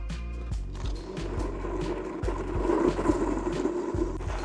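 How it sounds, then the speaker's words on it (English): An Antic bike skids on dirt, a gritty scraping rasp with rhythmic thumps and rattles from the frame, building in intensity toward the end, close by and without talk. "That's how you skid on dirt on an Antic"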